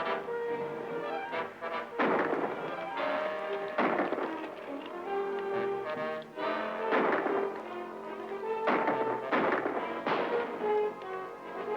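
Repeated gunshots in a 1942 Western film, loud bursts coming in clusters with ringing tails over a cattle stampede scene, no talk.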